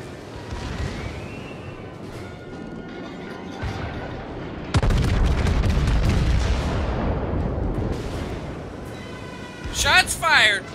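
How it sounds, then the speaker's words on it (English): Heavy naval guns from a warship in World of Warships fire in deep booming salvos, the loudest blast landing midway and leaving a rumbling tail, while several players talk over the battle. "Shots fired."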